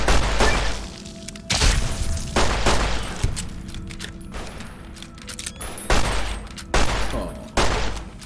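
A companion fires in Fallout New Vegas during a fight near a cave, with loud bursts of gunfire in uneven clusters and several sharp single shots with echoing tails between them.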